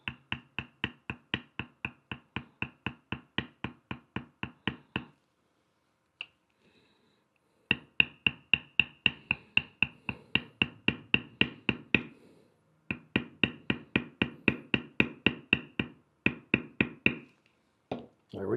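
A beveling tool is tapped along leather while tooling a horse image, producing crisp, rapid, evenly spaced taps in three long runs separated by short pauses, close and fairly loud.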